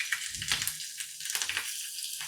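Crushed garlic frying in a ladleful of hot oil on a tawa gives a steady bright sizzle with bursts of spattering and stirring, close and alone with no voices.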